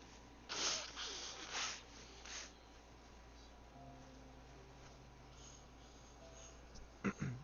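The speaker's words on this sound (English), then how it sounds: "hold up, I need to blow my nose" A person blows their nose, a couple of loud wet nasal bursts up close near the start, followed by quieter sniffing and a final short snort.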